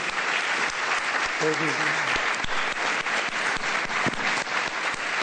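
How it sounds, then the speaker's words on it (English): An audience at a juvenile justice symposium applauds steadily and loudly throughout, a dense wash of clapping with a brief voice rising over it. "I want you all to give her a hand of applause"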